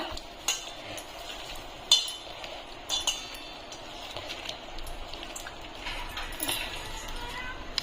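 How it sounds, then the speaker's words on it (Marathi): A spoon clinks against a bowl as a marinade is mixed by hand, with scattered light taps and scrapes at an irregular pace, soft and close. "मस्त मिक्स करून घेते आता"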